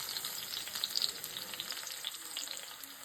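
Brinjal (eggplant) pieces fry in hot oil for a brinjal curry, giving a quiet, continuous sizzle dotted with small crackles and pops.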